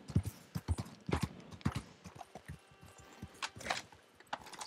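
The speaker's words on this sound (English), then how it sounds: "Take it easy, Horsey Horse." Horse hooves clip-clop at a steady riding gait in the video game Red Dead Redemption 2, a close, even run of hoofbeats with no talk over them.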